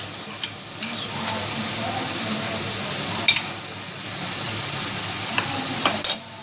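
Tomato paste sizzling and frying in a pan of potato egg curry while a spoon stirs it, a steady hiss with scattered scrapes and clinks of the utensil throughout.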